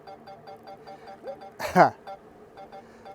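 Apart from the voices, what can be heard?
drone obstacle-avoidance warning beeping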